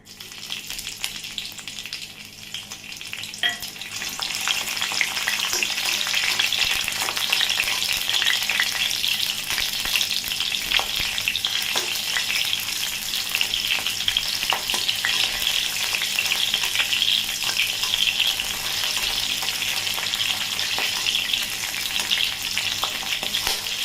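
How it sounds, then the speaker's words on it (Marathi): Green chillies frying in hot oil in a kadhai, a loud, dense, continuous sizzle that swells after the first few seconds and holds steady with faint stirring, no speech. "आपण आता पहिले ना ह्या मिरच्या तळून घेऊ"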